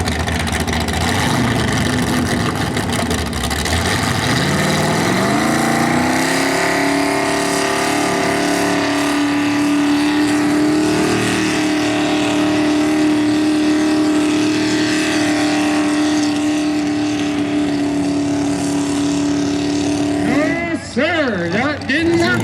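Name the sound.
mini rod tractor puller with supercharged 351 Cleveland engine pulling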